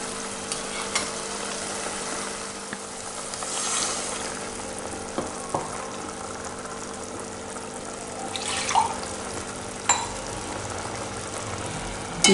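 Water swishes as a masala jar is rinsed and poured into a pan of mushroom gravy in a home kitchen, making a steady close hiss and sizzle with a few soft clinks and no talking.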